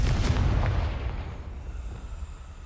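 A Confringo fire-blast spell in Hogwarts Legacy erupts in a loud, deep boom with a crackling burst, then rumbles and fades over a couple of seconds.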